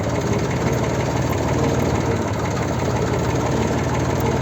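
A tractor engine idles in a steady, continuous low rumble that stays at an even loudness throughout, with no voices over it.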